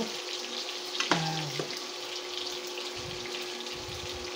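Pork browns in a hot pan while cooking monggo, giving a steady, close sizzle throughout with a brief scraping squeal early on.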